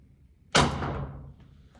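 A single sharp crack followed by a rattling, decaying clatter lasting under a second, a Walther PPQ T4E rubber ball pistol shot striking and bouncing away nearby.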